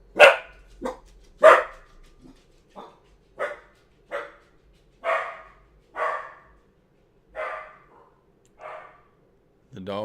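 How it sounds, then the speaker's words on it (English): A dog barks repeatedly, about a dozen loud, close barks at a steady, insistent pace, with brief pauses between them and little else audible. "The dog hears something."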